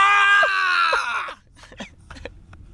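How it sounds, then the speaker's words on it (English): A person screams at full force in one long, strained, wavering cry that breaks off abruptly, followed by quieter shuffling and small noises. "just scream at the top of my lungs"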